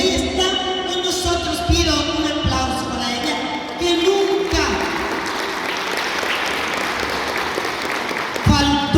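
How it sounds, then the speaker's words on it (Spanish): Audience applause in an indoor gathering at a regional event of an Ateneo, clapping building into a dense sustained wash that swells midway, with a speaking voice over the start before the clapping takes over. "pido un aplauso para ella"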